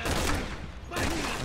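Rapid bursts of gunfire in the co-op shooter Resident Evil 6, during Chris's story, filling the clip as a dense, loud fusillade that pauses briefly midway and then resumes.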